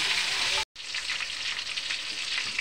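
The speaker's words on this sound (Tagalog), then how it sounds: "pinipirito ko muna ang isda para po hindi madurog" Oil sizzles and crackles steadily as fish fries in a pan for tuna kare-kare, loud and close, with a brief cut in the sound near the start.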